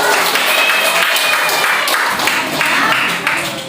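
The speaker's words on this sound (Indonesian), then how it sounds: "Tepuk tangan juga." Applause from a group gathered to hear award results announced for small team competitions, a dense steady patter of clapping filling the room for several seconds without a break.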